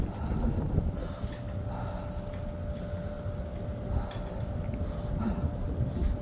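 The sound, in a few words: wind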